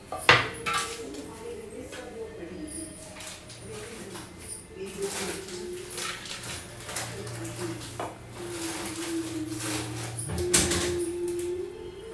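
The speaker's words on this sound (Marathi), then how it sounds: "अशा प्रकारे सगळी कोथिंबीर एकदम बारीक अशी चिरून घ्यायची आहे" Knife finely chopping fresh coriander leaves on a board, a run of irregular close taps and clicks with occasional louder knocks, steady throughout.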